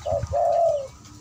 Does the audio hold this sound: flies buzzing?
no